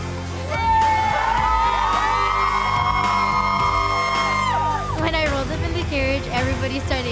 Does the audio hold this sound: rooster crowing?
no